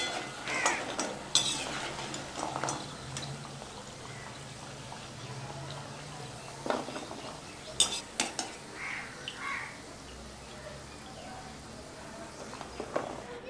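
Metal utensil clinking and scraping in a pan of hot oil as fried methi mathri is lifted out, light sizzle beneath intermittent sharp taps and a few louder clanks, with faint talk.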